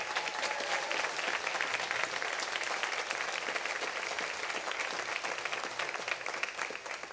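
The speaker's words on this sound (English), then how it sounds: "Let's give him a big round of applause." A large audience applauds at a building dedication ceremony, a long, even stretch of dense clapping holding at steady volume with no voices over it.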